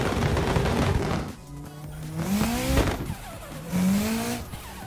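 Drift car with an SR20 engine at a drift competition, its engine note rising and falling through revs with tire squeal, loud and close, in short bursts over steady track noise.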